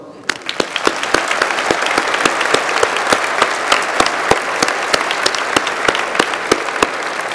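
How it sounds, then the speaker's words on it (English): A commencement crowd claps steadily, loud and sustained, dense applause filling the whole stretch without letting up. "So you may now join me in a round of applause."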